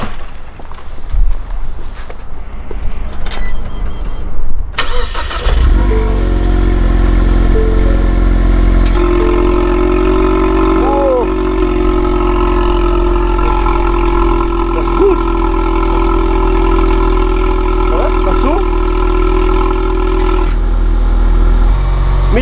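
Ford Mustang fitted with a NAP sport exhaust, starting up after some talk and rustling, then idling with a loud, deep, steady rumble and a few light revs, close by.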